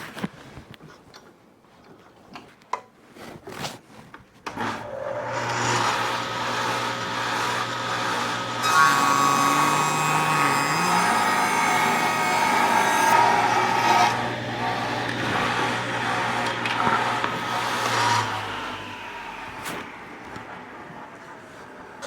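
A power saw in a workshop trims the edge of a wooden board for an entrance way step: a few clicks and handling noises, then the motor spins up into a sustained whining cut that winds down near the end.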